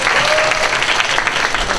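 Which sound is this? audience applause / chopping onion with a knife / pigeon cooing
audience applause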